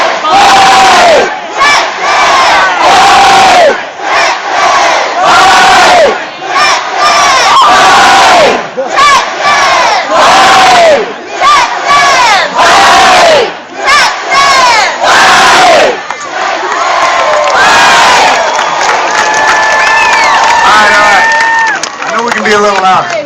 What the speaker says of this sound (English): we're going to do our traditional stadium yell